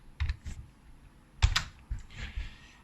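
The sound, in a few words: typing on a computer keyboard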